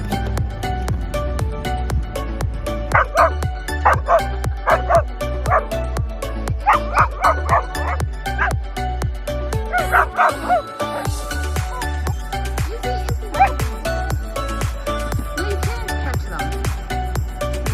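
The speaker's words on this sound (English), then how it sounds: "Oh, there's a dog." A dog barks and yips outdoors on a river during an inflatable boat outing, in repeated short bursts over steady engine-like hum, with some whimpering and people talking at times.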